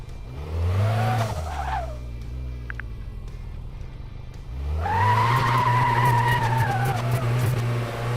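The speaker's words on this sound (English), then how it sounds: "Every car has its own sound" A race car engine in Car Mechanic Simulator 2026 revs and drones, misfiring, tires squealing, dipping to a lower hum midway before roaring back louder.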